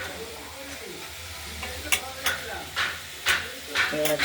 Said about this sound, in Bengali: মাছের তেলটা যত গরম হচ্ছে তত গলে তেল বেরিয়ে যাচ্ছে